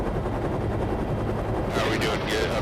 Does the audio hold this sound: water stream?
no